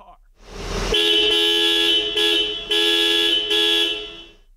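A 1984 Mercedes-Benz 500SEC with AMG upgrades sounds its Town and Country horn: a loud, steady two-tone honk held in several long blasts with brief breaks between them.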